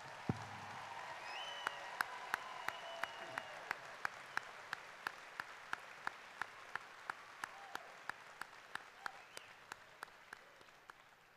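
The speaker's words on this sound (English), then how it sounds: "let's give our graduates one final round of applause." A large audience at a university spring commencement ceremony applauds the graduates in a steady, distant roar of clapping, with regular sharp rhythmic beats sounding through it.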